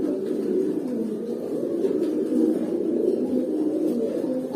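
Pigeons in a loft, among them silver, hammer and bezi birds, give a soft, continuous low cooing murmur with no breaks, moderately near.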